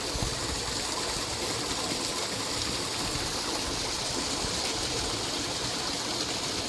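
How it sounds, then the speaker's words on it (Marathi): Water flows out steadily in a paddy field, a continuous rushing gush like a small stream, close and fairly loud, with no talk over it. "पाणी कुठून निघतंय बघा तुम्ही, दाखवतो मी."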